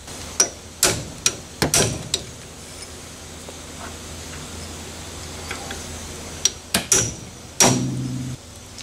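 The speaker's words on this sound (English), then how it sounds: "Maybe punch and bigger hammer?" Hammer driving a punch against heavily corroded brake parts on a Pontiac Vibe GT, sharp metallic strikes in irregular clusters with quiet gaps between them and a brief ringing clank near the end.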